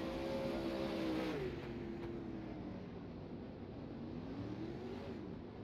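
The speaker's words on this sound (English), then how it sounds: "7 cars, 10 laps of distance," 360 sprint cars roar around a dirt track in a heat race, a dense continuous engine drone with pitch sweeping as cars pass, heard from a distance under steady crowd and track noise.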